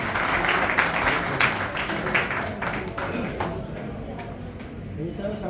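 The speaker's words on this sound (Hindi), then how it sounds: "जोरदार तालियां बजती रहे।" Sustained applause from an audience at a ceremony honoring senior guests with shawls. Dense, steady clapping fills the whole stretch, holding fairly loud throughout with only a slight fade near the end.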